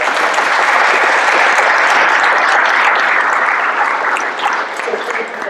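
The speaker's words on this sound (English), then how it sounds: "just a huge round of applause" Loud, sustained applause from a town hall audience in Evergreen, a dense wash of clapping hands that holds steady and then thins slightly near the end, with no voices over it.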